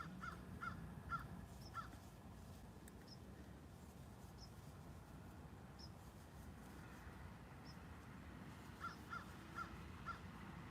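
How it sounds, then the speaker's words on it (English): A crow caws outdoors in short bursts of three or four calls, fairly faint against a steady broadband background hiss, first near the start and again near the end. "That crow."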